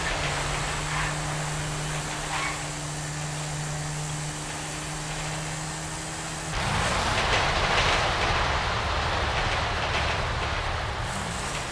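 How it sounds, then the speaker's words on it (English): Train in the video game GTA V, a steady rumbling engine drone with a sustained low hum, then a louder broadband rolling wash of wheels and carriages for the rest of the passage. "And here she is, the magical train."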